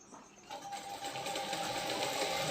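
An electric sewing machine stitches a katori blouse, starting up after a brief pause and running in a steady, fast, faint whir.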